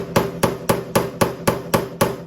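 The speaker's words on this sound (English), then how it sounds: "I take my center punch, put that right in the middle" A hammer strikes a center punch set on a spot weld of a stripped 2004 GTO donor chassis, eight sharp, evenly spaced metallic taps in steady rhythm, close and loud with no talk.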